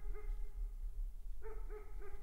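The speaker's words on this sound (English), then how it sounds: "there's like one dog over there" A single dog barks at night near a campsite, a few distinct woofs at moderate distance, with a pause between the first bark and a closer pair, over quiet low background rumble.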